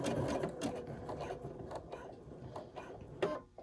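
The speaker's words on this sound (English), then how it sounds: "then I'm going to start to sew." A sewing machine stitches a button onto a healthcare headband, a close continuous rapid mechanical chatter running the whole time with small clicks.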